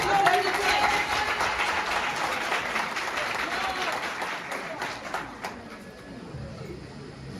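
Applause from an audience at a school donation ceremony at a secondary school in Wora, a steady broadband clatter of many hands that holds for several seconds, then thins and tapers near the end.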